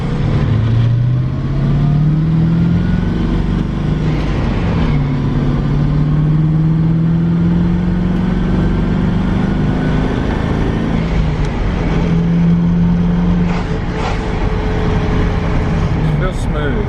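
Supercharged Ford Crown Victoria with a 5-speed swap revving hard, its loud engine note sweeping up and down in pitch through repeated pulls, close by, with people talking over it.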